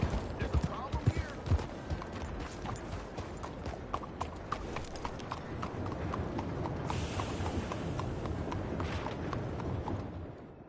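Horse hooves clip-clop steadily in Red Dead Redemption 2, a brisk, even rhythm of crisp strikes running throughout over a dense game soundscape, with voices speaking alongside.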